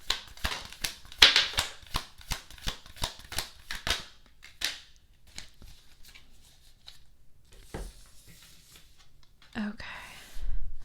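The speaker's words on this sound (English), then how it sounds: "let's go ahead and start the shuffle" Tarot cards shuffled by hand in a quick series of crisp riffling and slapping bursts during the first four seconds, then softer handling with a few faint taps, and a speaking voice near the end.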